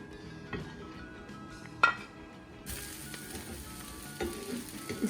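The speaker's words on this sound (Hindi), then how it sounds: "1 टेबलस्पून ऑयल का डाल के बीन स्प्राउट और पत्ता गोभी को सौते कर लें।" Bean sprouts and cabbage sautéing in a tablespoon of oil, a steady close sizzle with occasional clinks and scrapes of a utensil stirring the pan, with no talking.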